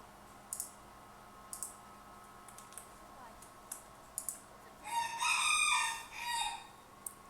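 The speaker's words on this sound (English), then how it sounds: "Sorry about my rooster." A pet rooster crows once at moderate distance, a drawn-out warbling call rising over quiet keyboard and mouse clicking in a room, with scattered clicks before it.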